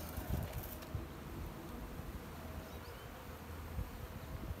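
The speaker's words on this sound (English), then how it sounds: "you can see the front of the hive, it's just cooking with bees" A dense, steady buzz of many honey bees at a hive entrance in spring, close by, constant and unbroken with no voices.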